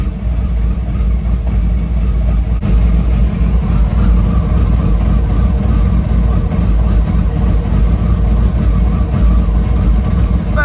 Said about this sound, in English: I'll let the engine warm up before I turn the water pump on.